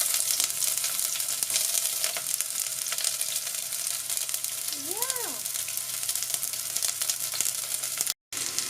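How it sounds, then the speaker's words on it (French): Onions sautéing in a pan, sending up a constant close hiss of frying with light crackle. A brief tonal whine rises and falls midway, and the sound cuts out for a moment near the end. "Je vais me faire revenir les oignons un tout petit peu"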